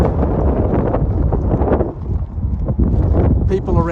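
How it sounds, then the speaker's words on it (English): Outdoor wind buffets the microphone in heavy, continuous low rumbles and gusts that swell and dip throughout. "The wind is starting to build up, so it's going to be a windy sort of day"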